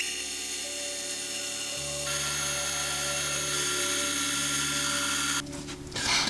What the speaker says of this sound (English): All 60 holes have now been drilled.